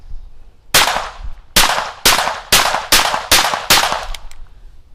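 A semi-automatic .22 fires CCI Quiet ammunition in seven sharp, fairly loud cracks spaced roughly half a second apart. Each crack has a short ringing tail, with quiet pauses between them and no talking.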